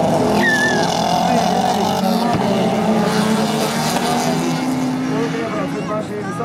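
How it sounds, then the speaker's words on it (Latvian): Folk race cars, among them a powerful Mazda MX-3, roar around a gravel circuit in a continuous loud engine drone with shifting revs, under steady commentary from an announcer. "tas ir Batars, kurš šobrīd ir 2. ar jaudīgo Mazda MX-3"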